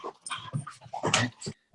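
A pack of dogs gathering close by makes short whimpers, pants and small yelps in quick, uneven bursts, with no talk over them.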